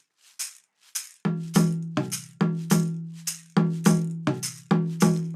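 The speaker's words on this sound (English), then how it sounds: "doing the steady beat with the caxixi while you're playing a Dundun pattern like this" A steady, crisp caxixi shaker beat rattles alongside deep, resonant dundun drum strokes in a repeating pattern, close and clear with no talking.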